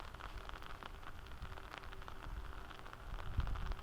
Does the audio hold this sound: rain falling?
yes